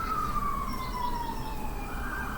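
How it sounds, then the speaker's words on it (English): Emergency vehicle sirens wail outside on a New York street, a falling tone that sweeps over a steady traffic rumble, heard at moderate distance with no talking. "it's so early in the morning and there's already sirens outside."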